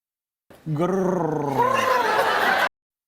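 Voices on a TV talk show growl loudly for about two seconds, one person imitating an animal's rough growl, rising and rasping with a gravelly, laughing edge before cutting off abruptly.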